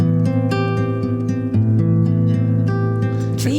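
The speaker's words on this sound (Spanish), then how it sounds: "que es el menor 7/9, que suena así." A minor 7/9 chord played on an instrument in a radio studio, struck repeatedly in a steady rhythm with sustained, ringing notes, loud and alone with no voices.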